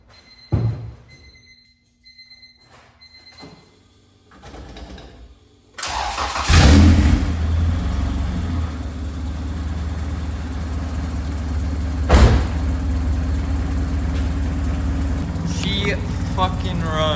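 Honda EK chassis car with a header dump: a few quiet clicks and a short starter crank, then the engine catches loudly and settles into a steady, rough, low idle, close up, with a brief blip partway through.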